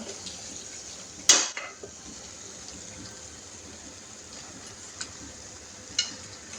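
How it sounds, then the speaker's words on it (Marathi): Mutton goes into a pan of cooked masala paste and oil, one loud metallic clang of a spoon on the pan followed by faint scraping and two lighter taps, with no talking. "ते मटण टाकून घेऊ आपण इथे आता."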